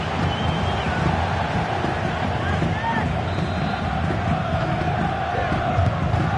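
A stadium crowd in the FC 24 football video game roars and chants steadily throughout, a dense continuous wall of cheering and shouting during a Romanian SuperLiga match, with no break in the noise.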